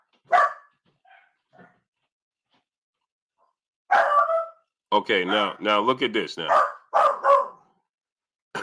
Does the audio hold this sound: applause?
no